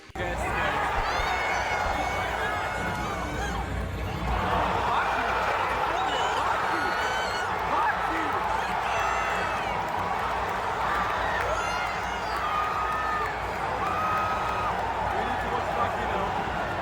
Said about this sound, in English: Here's what a real crowd reaction sounds like.